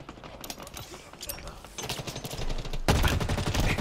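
Rapid gunfire from Halo Infinite multiplayer, with bursts of shots that build in density and grow louder toward the end.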